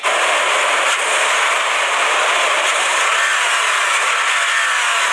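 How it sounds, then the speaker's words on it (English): Steady, loud broadband mechanical drone of a 2023 Toyota 4Runner Anniversary Edition SUV engine and road noise while driving, continuous with no breaks. "It's not like the good exhaust noise I hear, just like a lot of mechanical noise."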